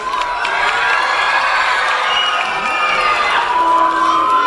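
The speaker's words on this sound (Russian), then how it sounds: "давайте не будем скупиться на свои аплодисменты, давайте немножко пошумим" A children's audience at a cartoon-themed concert cheers and shouts with some clapping, a loud, dense crowd roar of young voices holding steady throughout.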